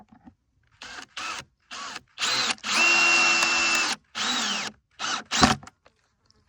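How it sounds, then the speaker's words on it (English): Power drill working on a wooden pigeon trap runs in short bursts, several brief whirs then one longer sustained run and a few more quick pulses, close and loud with no talking. "So I have here the drill"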